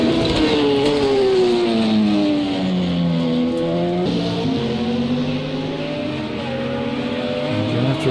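LMP2 prototype race cars roar around the Daytona road course in Project CARS 2, engines loud and close with rising and falling revs through gear changes over a continuous wash of engine noise.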